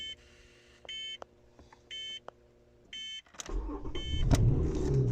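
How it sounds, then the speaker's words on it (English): A Lotus Evora sits with its electrics on, giving four evenly spaced warning beeps, then its engine cranks and fires with a loud, rising rumble that keeps running to the end. "I've got to start the car."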